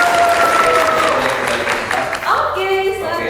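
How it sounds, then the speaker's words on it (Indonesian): Steady, dense applause from an audience at a Surabaya MC school class, clapping continuously for a student with a few voices mixed under it. "Tepuk tangan semuanya buat Putri."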